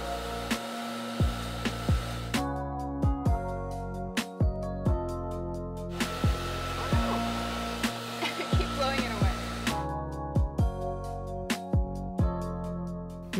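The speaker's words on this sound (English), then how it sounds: "So I have my blow dryer here and I'm gonna warm it up." A hair dryer warming beeswax for candle making blows steadily with a loud whooshing hum, its pitch and airflow shifting as it moves, with occasional soft knocks and clicks.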